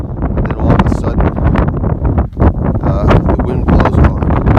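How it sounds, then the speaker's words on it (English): Strong gusts of 35 to 40 mph wind buffet the microphone on an Appalachian Trail mountain path in the Whites, loud and roaring with one brief lull in the middle. "With this wind going, gosh, it's about 35, 40 mile an hour wind at times."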